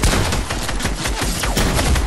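Rapid gunshots from Fortnite in a loud, dense burst of automatic fire, rattling continuously and close with no talk over it.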